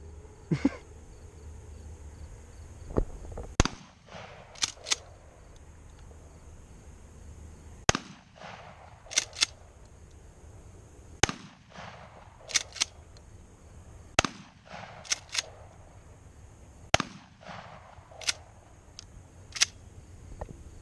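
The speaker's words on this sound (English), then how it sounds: "So we'll let Tyler and Dad shoot the Shockwave." A Mossberg Shockwave shotgun fires outdoors in a series of sharp, loud blasts, often two or three in quick succession, separated by pauses of several seconds over a low steady background.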